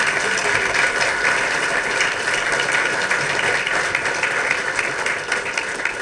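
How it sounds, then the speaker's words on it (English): An audience applauds at an unveiling ceremony for Harbor Place: a dense, sustained wash of clapping, loud and even throughout, with no speech. "Give him another round of applause."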